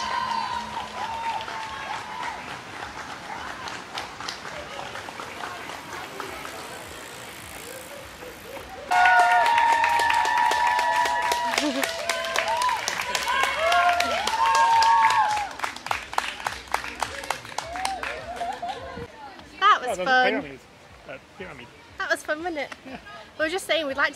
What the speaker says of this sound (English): Can you hear them cheering?